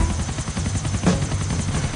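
A helicopter flies in the video game GTA IV, its steady rotor chop pulsing in a continuous rhythmic thrum with engine whine, close and fairly loud throughout.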